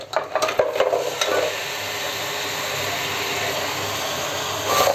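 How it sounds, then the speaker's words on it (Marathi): Crab pieces and large claws are poured into a hot oil and onion tempering, a clattering tumble into the pan followed by a steady, loud sizzle that holds without a break. "हे पेंदे आणि मोठ्या डेंगऱ्या आहेत त्या ह्या फोडणीमध्ये ओतणार आहे"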